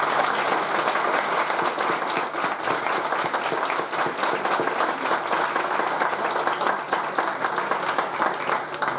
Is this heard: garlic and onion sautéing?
no